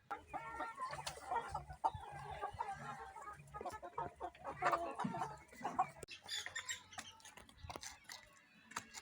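Several chickens cluck and squawk inside a farm chicken coop, giving a busy, close, irregular chorus of calls throughout.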